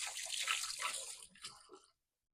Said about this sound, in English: Let me rinse my hands off the dripping.